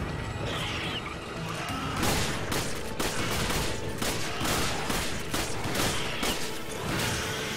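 Rapid, loud bursts of gunfire and impacts in the video game Resident Evil 5, a dense volley of shots and crashes with no talking over them.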